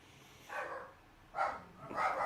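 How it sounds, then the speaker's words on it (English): A dog barks a few times somewhere nearby, in three short muffled bursts behind quiet room noise. "Oh shoot, my dog's barking."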